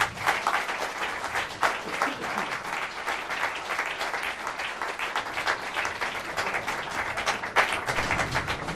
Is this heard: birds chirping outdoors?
no